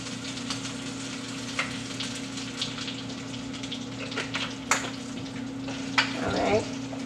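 Chicken frying in oil in a small fryer, a steady soft sizzle and bubbling with a constant low hum beneath, occasional louder crackles and spits rising near the end.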